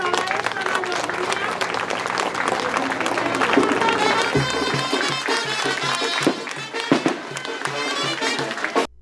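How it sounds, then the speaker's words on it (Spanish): Applause from a crowd at a Quita Bandera flag ceremony honoring San Nicolás, a steady dense roar of clapping with music and voices mixed in throughout. "Un aplauso muy fuerte para esta mayoría."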